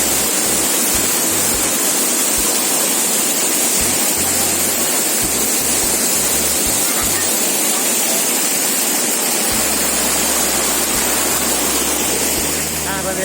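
A small river near Cibodas flows steadily with a dense, loud, continuous rush of water close by, with low rumbles and occasional voices underneath.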